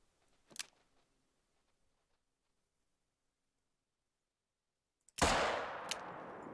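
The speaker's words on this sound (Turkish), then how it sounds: "Yani dört mermi sıktım." Rifle gunshot while hunting in TheHunter: Call of the Wild, one sharp loud crack with a lingering echoing tail near the end, after a faint earlier shot and long quiet.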